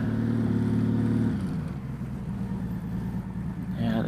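Motorcycle downshifting into first gear without the rear brake, engine braking slowing the bike; a steady low engine drone drops in pitch partway through, with road and wind noise throughout.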